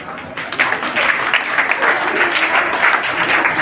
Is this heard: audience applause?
yes